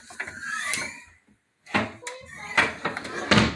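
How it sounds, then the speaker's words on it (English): A Werner folding attic ladder creaks and clunks through its hinges, then several sharp mechanical snaps and thuds follow as it locks into place, close by. "And it snaps into place."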